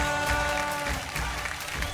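Studio audience of a Marathi television game show applauds the winner, brisk clapping over a backing music bed with sustained tones.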